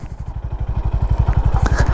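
A Honda Highness CB 350 motorcycle rides an off-road trail, its engine thumping in a fast, steady, loud rhythm close up, with faint clatter over the top.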